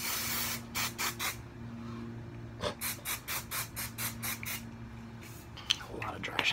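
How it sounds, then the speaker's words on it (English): Dry shampoo sprayed from an aerosol can onto hair, heard as a series of short, close hissing bursts in quick clusters over a steady low background hum. "So, dry shampoo to the rescue."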